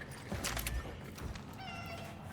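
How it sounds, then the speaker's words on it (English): A cat meows in the video game Cronos: The New Dawn, a short tonal call heard briefly over low ambient game sound, no talking. "That was a cat."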